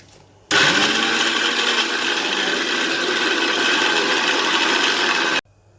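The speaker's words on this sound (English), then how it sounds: "Now I'll crush these butter cookies, digestive biscuit, whatever you like" A kitchen blender or food processor grinds digestive biscuits with butter, switching on abruptly and running at a loud, steady whirring roar with a gritty rattle for about five seconds before cutting off.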